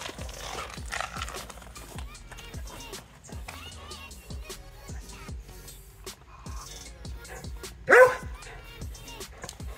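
Dogs bark repeatedly in a quick, rhythmic series at moderate distance, with one sharper, louder yelp near the end.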